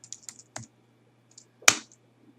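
Someone typing a command on a computer keyboard, a few scattered light key clicks followed by one sharper, louder keystroke, close by and quiet with no talk.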